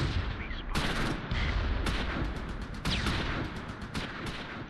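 Gunfire in the wartime strategy game Close Combat V: a mix of sharp single shots and short automatic bursts, some loud and close, others more distant, with no talking.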